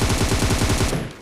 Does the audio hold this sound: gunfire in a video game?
yes